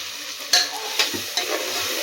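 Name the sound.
stirring vegetable biryani with yogurt in a pot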